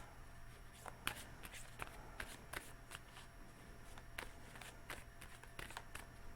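Tarot cards are shuffled by hand close up, a soft, quiet run of papery riffles and slaps in an irregular rhythm with no talking.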